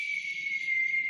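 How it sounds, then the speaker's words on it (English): A person produces a loud, sustained whistle, a steady high tone holding for over a second with a soft breathy rumble beneath. "Here's my loudest whistle right here"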